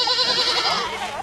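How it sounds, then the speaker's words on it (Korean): A baby goat bleats continuously, loud and close, a wavering cry with no other sounds around it. "이번 목표물은 아기 염소인가 봅니다"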